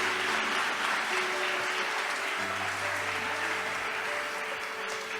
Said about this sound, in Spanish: Denle fuerte el aplauso al Dios